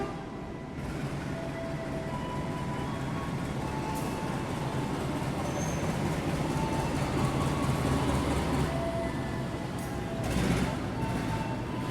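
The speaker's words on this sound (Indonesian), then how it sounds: "Kereta api Progo akan segera masuk di jalur nomor 3" The Progo passenger train rolls into a platform at an Indonesian station with a steady low rumble and rail noise building gradually, faint chatter and station sounds around it.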